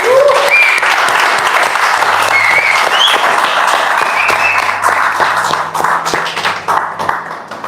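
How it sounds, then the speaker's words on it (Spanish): Loud, sustained applause from a church congregation during a sermon, dense clapping filling the space with a few voices and cheers over it, easing off slightly toward the end. "Denle un aplauso al Señor."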